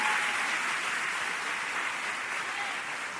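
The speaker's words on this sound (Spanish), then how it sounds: "Damos un fuerte aplauso." An audience at a church talk gives a steady round of applause, a dense even wash of clapping from a large room, moderately loud and unbroken until it cuts off abruptly.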